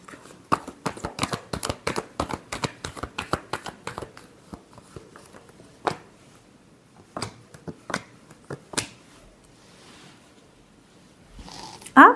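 Tarot cards being shuffled in a rapid run of crisp riffling snaps, then a few slower, separate card flicks, near and fairly loud with no talking.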